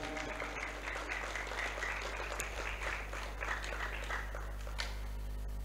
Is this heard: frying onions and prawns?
no